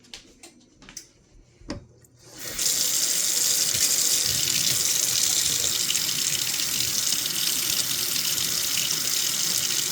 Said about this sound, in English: Probably should run this under cold water